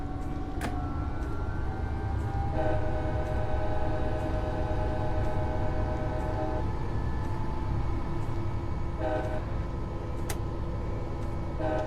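Simulated passenger train on the Pacific Surfliner route in Train Simulator 2014 rumbling steadily along the rails, with a continuous low drone, tonal engine hum and occasional brief clicks, fairly loud and without talk.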